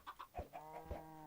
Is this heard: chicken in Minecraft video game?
yes